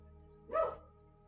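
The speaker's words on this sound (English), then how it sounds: "What are you barking at?" A pet dog named Liberty gives one short, close bark indoors against a low background hum, with no talk over it.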